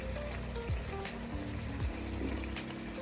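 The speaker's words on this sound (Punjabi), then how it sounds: "ਹੁਣ ਬਸ ਇਹਦੇ ਵਿੱਚ ਪਹਿਲਾਂ ਆਪਾਂ ਆਲੂ ਪਾ ਦੇਣੇ ਆ" Potatoes go into hot oil spiced with cardamom for aloo gobi, giving a steady, close frying sizzle that holds at an even level throughout, with faint tonal notes in the background.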